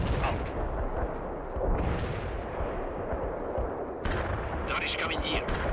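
An artillery strike lands in the World in Conflict video game, sounding as loud, rumbling booms and crackling blasts that roll one after another in dense bursts with no talk over them.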